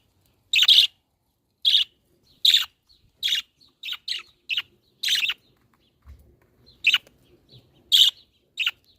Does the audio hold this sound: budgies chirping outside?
yes